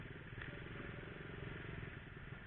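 A motorcycle ploughs through flood water in a flooded Bandung neighbourhood. The engine hums constantly beneath a dense, close roar of churned water, loud and unbroken over the short span.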